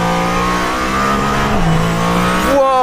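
Mercedes-AMG ONE hybrid hypercar lapping a circuit in street mode on cold tyres, its engine holding a loud, steady high-pitched drone that dips briefly and then climbs sharply as the throttle opens, close and with no talk over it.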